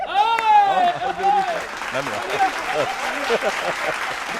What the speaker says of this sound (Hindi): अंतिम लाइन में तालियां।